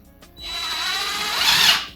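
A power drill whirs steadily into wood, its pitch and loudness rising slightly as the bit bites deeper, heard alone and up close.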